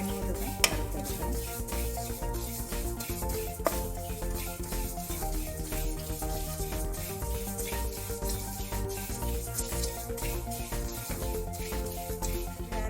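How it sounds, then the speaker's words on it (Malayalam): Ajwain (carom seeds) are dry roasted in a pan for a Karkidakam laddu, with a steady, faint rustling and soft stirring scrapes and occasional light clinks of the utensil against the pan throughout. "അയമോദകം വറുത്തെടുക്കാം."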